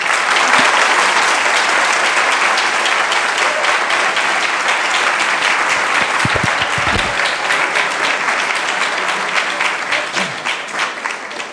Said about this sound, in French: je vous demande d'applaudir Étienne Klein